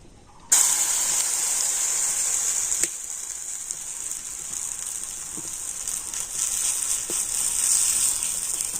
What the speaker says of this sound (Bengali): এবার আমি ডিম আর ডালের মিশ্রণটা এই ফ্রাই প্যানের উপর দিয়ে দিচ্ছি